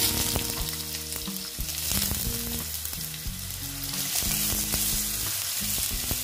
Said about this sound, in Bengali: আলুটা দিয়ে এই যে আলুটা আমি এখন ভেজে নিচ্ছি